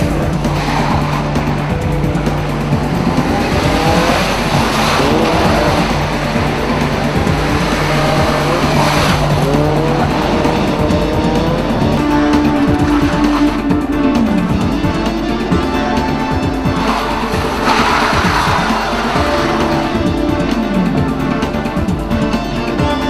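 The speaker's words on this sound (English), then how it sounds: "Best shot of the night of Paul Wignall throwing his Alfa completely sideways." An Alfa Romeo race car is thrown sideways on a tricky test course, its engine roaring loudly throughout as tires squeal and skid in long, wavering screeches.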